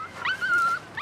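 A dog lets out a brief high whine or whimper, close and clear, in a short single burst with no talk.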